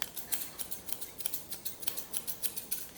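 Scissors trim a standard poodle's fur, snipping rapidly in a quick, even rhythm, close and fairly quiet, with short metallic clicks and no talking.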